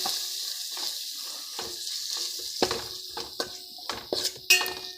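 Fish curry being mixed with chili powder and fish masala in a pan on the stove, with a quiet sizzle under repeated scraping and clinking stirs that grow sharper toward the end.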